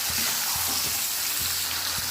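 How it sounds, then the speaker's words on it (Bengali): Ginger garlic paste sizzling in hot oil with salt, a dense steady frying hiss with low thumping spatula stirs recurring every half second or so. "এবার এটাকে ভালো করে ভেজে নেব তেলের উপরে"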